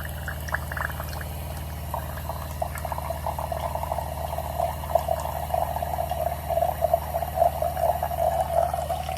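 A SimPure Y9A UV countertop water filter dispenses a steady stream of water that trickles and pours into a container, with a low constant hum underneath; fairly quiet and continuous, no talking.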